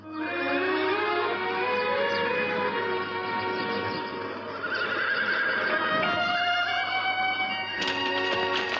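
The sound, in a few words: horse neighing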